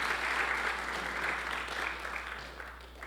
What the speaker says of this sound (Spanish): Dele un aplauso al Señor, a ver.